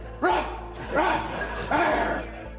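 A man barks like a dog three times at roughly even spacing on the stage of a Jerry Springer talk show, each bark a loud, strained human voice imitating a dog's bow-wow, with faint crowd noise underneath.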